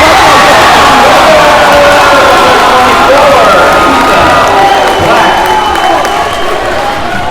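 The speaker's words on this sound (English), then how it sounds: "the Ephrata crowd erupts in celebration after the foul and one" A home crowd at a high school basketball game between Toppenish and Ephrata erupts in loud, sustained cheering and shouting after a foul-and-one play, filling the whole stretch without letup.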